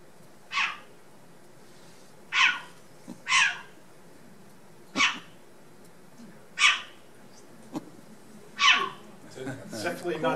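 Six short, harsh owl calls, rising and raspy like a bark or a meow, spaced a second or two apart against a quiet background.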